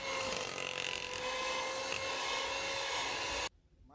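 An electric mixer beats sweet bread dough with a steady whirring motor drone and some rattle, running loud and constant before stopping abruptly, leaving faint residual noise.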